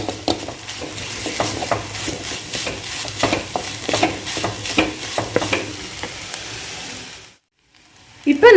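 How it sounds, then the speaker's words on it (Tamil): Grated coconut being fried and stirred in a pan over a medium flame for coconut halwa: a steady sizzle with repeated scraping stir strokes. It cuts out briefly and then resumes loudly at the end. "மீடியம் ஃப்ளேமில் வச்சு நல்லா ஃப்ரை பண்ணிக்கோங்க."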